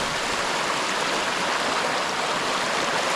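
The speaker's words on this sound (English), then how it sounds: "First little creek we had to get across." Water rushes steadily through a small creek crossing, a close, continuous broadband gurgle with no other sounds.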